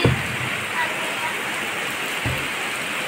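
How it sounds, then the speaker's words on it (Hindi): Heavy rain pours steadily as a dense, loud hiss seen from a rooftop, continuous and close throughout, with a brief low thump at the start and another partway through. "देखिए कितना तेजी से बारिश हो रहा है, कितना भारी मात्रा में, कितना भारी बारिश हो रहा है"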